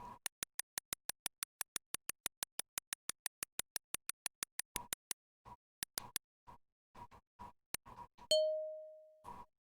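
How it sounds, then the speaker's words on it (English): A bell rings once in the video game Penn and Teller's Smoke and Mirrors, a clear sustained tone following a long run of sharp, rhythmic clicks and scattered thumps. "So we're waiting to hear a bell."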